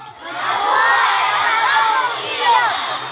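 A crowd of children shouts a loud, sustained cheer together in Filipino, rising and holding for a few seconds.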